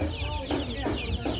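Young desi chickens about fifteen days old cluck in short, repeated bursts close by at the Mirpur-1 chicken market, over a steady market background.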